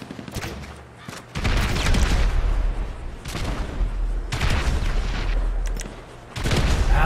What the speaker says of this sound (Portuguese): Tá vindo a metralhadora